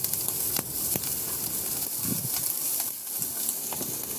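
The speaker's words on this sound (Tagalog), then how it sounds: "Pagkatapos yan, itabi muna natin sa kawali at igisa ko na rin dyan yung bawang." Minced garlic sautés in oil in a frying pan, a soft crackling sizzle punctuated by occasional sharp pops and scraping stirs close by.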